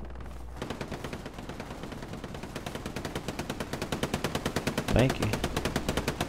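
Rapid automatic gunfire from the Hell Let Loose video game rattles in long, evenly spaced bursts that build in loudness, with a brief voice heard partway through.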